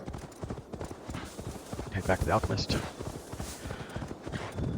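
Rapid, rhythmic hoofbeats of a galloping horse in Assassin's Creed Valhalla, close and steady, with a voice speaking over them.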